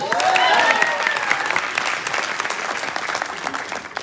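An audience at a company gathering bursts into loud clapping and cheering that peaks at once, then thins into scattered claps over a few seconds.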